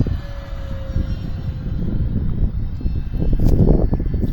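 An E-flite F4U Corsair 1.2 m electric RC airplane on a 4S 4000 pack flies past, its steady motor drone and wind rush swelling louder toward the end as it comes closer.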